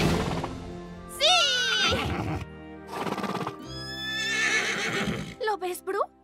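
A horse on a farm in the animated series Spirit Riding Free gives loud, close whinnies and neighs in several bursts, with a short snort at the end and voices nearby.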